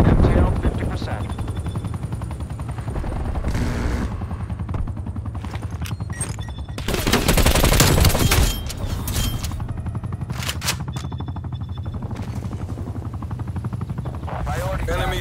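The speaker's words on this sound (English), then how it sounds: "Enemy attack helo above." An enemy attack helicopter in Call of Duty: Black Ops Cold War fires in loud, rapid bursts of gunfire over a steady rotor-like drone, with a louder barrage in the middle and game voice callouts mixed in.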